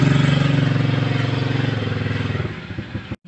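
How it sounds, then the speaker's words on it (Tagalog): An arriving motorcycle's engine putters close with a rapid pulsing beat, gradually fading and thinning before cutting out abruptly. "May dumating na motor?"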